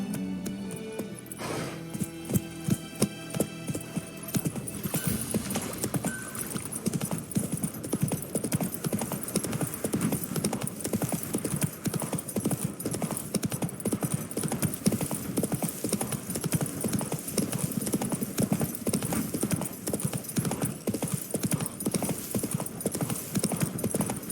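Roach the horse's hooves clip-clop in The Witcher 3: Wild Hunt, a steady, close rhythmic trot running throughout with faint game ambience behind.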